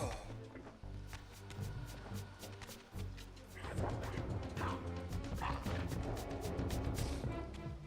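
Dog enemies bark in the video game Legacy of Kain: Soul Reaver, with yelps and rough barks amid a dense mix of clattering hits, crashes and game noise that grows busier partway through.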